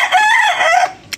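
A Boston Roundhead gamefowl rooster of the Esculin line crows once, loud and close, in a single rising and falling call followed by a short sharp noise.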